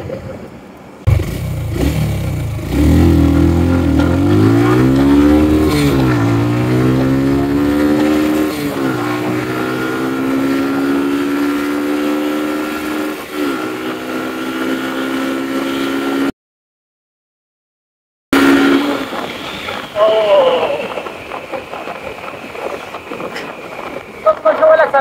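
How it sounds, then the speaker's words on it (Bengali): A Suzuki Gixxer Monotone motorcycle accelerates hard from a standstill toward 100 on a road, its engine note climbing through several gear changes with loud wind rush. The sound cuts out briefly, then returns as a quieter, fading engine. "আমার আজকের ভিডিও হচ্ছে আমি আমার বাইকের 0 to 100 টেস্ট দিব।"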